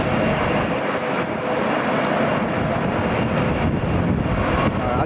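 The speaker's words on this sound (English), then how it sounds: "Alright, TUI Dreamliner's going." A TUI Boeing Dreamliner airliner departing at Schiphol, a steady loud broadband jet engine roar filling the scene throughout without letting up.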